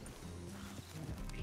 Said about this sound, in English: That is a giant horse